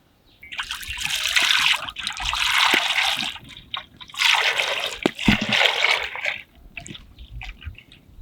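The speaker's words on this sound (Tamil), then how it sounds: "எண்ணெயை ஊற்றிக்கலாம்." Cooking oil pours into a pan in a village kitchen, coming in two long, splashy gushes followed by a few smaller trickles and drips, all close by.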